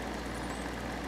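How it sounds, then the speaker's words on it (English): A 1982 Hotpoint window air conditioner, a 9,700 BTU GE Fashionaire, runs with a steady close drone and a faint rattle from its fan motor, with no talking. "you can't really hear the compressor too well, other than the rattling from the fan motor"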